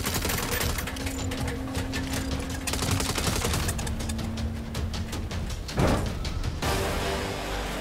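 Turret gunfire in the Saints Row video game hammers out in dense, continuous automatic bursts, loud and close, with a brief heavier impact toward the end.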